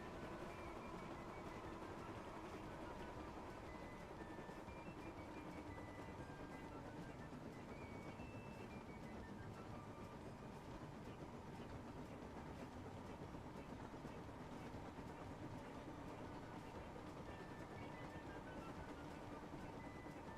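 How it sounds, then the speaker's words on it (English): A train running fast at about 80 miles per hour, giving a steady, continuous rumble with a metallic ringing tone for the whole stretch. "I think that's the fastest we've had a train go,"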